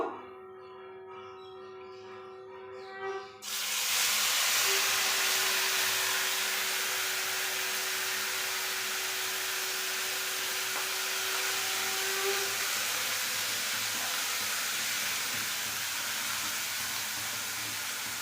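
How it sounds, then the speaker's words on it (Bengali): Kachori spice filling hitting hot oil, with a faint hum that suddenly gives way to a loud, continuous hissing sizzle that holds steady to the end. "তেল গরম হয়ে গেছে, আর এই দেখুন পুরো রেডি করে রেখেছি। তেলে মশলাটা কষে নেব।"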